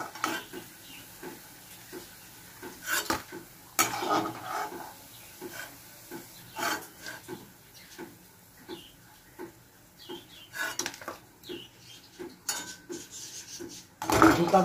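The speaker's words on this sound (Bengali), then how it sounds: "এবার আমি ধোকাগুলো তুলে নিচ্ছি এক এক করে।" Fried dhoka lentil cakes are lifted from the pan one by one, with repeated metal spoon scrapes and clinks against the pan over a low sizzle, close and intermittent.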